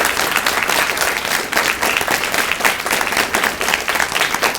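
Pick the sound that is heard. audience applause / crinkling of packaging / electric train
audience applause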